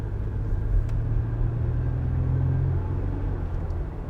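A Toyota or Lexus car rolling down a road after a wheel bearing replacement, a steady low rumble of engine and tyres from inside the cabin with no talking.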